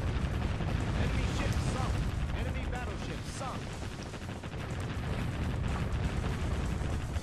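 Battleship guns firing in the video game Warship Gunner 2, a dense, continuous barrage of booming shots and blasts that stays loud throughout, with a voice talking faintly beneath it.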